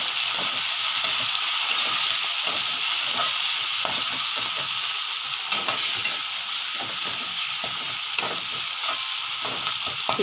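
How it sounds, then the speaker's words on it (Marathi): Tomatoes sauté in a pan on the stove, a steady close sizzle and crackle with soft stirring scrapes throughout, and nobody talks. "या टमाटरला पण आपल्याला छान असं परतून घ्यायचं आहे"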